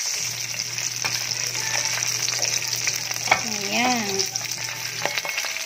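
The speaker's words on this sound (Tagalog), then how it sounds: "Magigisa na tayo ng ating sauce na adobo" Adobo sauce for milkfish (bangus) sizzles steadily in a frying pan, a constant close crackle with a faint hum underneath and a brief spoken word partway through.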